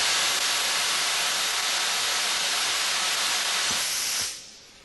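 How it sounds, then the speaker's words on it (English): Air-pressurised spray manifold nozzles let out a loud, steady broadband hiss that stays constant for several seconds, then cuts off abruptly at the end. "This setting should allow any manifold to spray."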